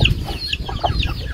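Chickens cluck nearby in short, repeated bursts over a continuous low background rumble, the calls fairly close and moderately loud.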